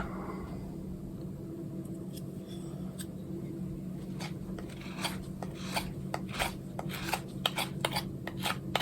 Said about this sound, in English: I'll sand it down, make it look nice